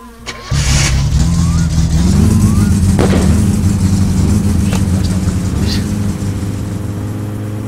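Car engine in the video game My Summer Car, already warm, catching and then running at a steady loud idle with slight revving, mixed with a few faint clicks and thumps.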